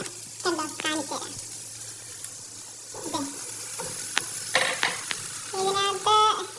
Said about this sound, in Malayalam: അപ്പൊ നമ്മുടെ മാസ്റ്റർ ഷെഫ് തന്നെ ഫ്രൈഡ് റൈസ് കുക്ക് ചെയ്യുവാണ്.